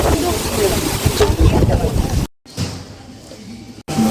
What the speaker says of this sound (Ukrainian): Вітер просто жахливий